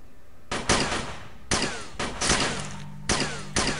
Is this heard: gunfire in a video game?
yes